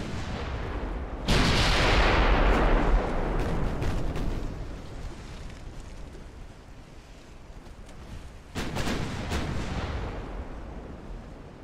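Heavy naval guns fire in the 1890-era warship game Ultimate Admiral: Dreadnoughts, two big booming salvos roughly seven seconds apart, each a loud blast that rumbles and fades over a low battle ambience.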